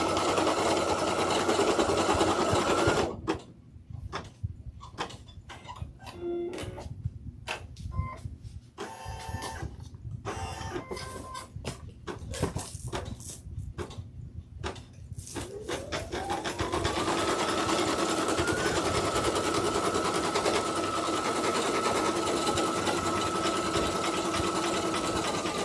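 A sewing machine stitches rapidly and steadily in a long continuous run, with a short burst at the start, choppy stop-start stitching in between, and a sustained fast hum toward the end, close and fairly loud.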